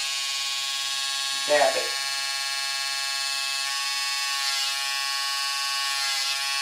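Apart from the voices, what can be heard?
electric trimmer trimming eyebrows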